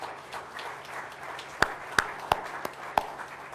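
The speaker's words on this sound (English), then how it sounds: "I would like to give a big round of applause and congratulations" Sparse, scattered clapping from an audience at a startup awards address, faint and irregular with a few louder distinct claps standing out, no talk over it.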